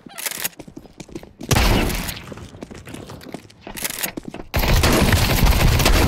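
Rapid bursts of automatic gunfire from the video game CS:GO, loud and close, with sharp shots sputtering at first and then long sustained volleys; no talking.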